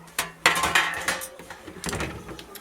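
A metal baking pan for tuna casserole clanks and scrapes in a home kitchen, with a sharp knock followed by a cluster of clattering handling sounds that taper off, then a few lighter clinks.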